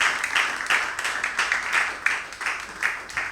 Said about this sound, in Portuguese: E bate palmas bem forte